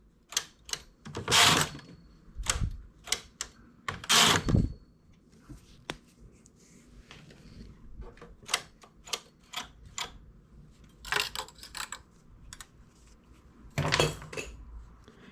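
Knitting machine carriage passing back and forth over rows of contrasting yarn while making a ruffle with the ribber, giving sharp rattling clacks in uneven bursts with quieter ticking between, close and alone.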